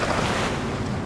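Strong wind and choppy waves churn on the Great Salt Lake near Salt Lake City, a steady, dense wash of water and gusting air with no voices.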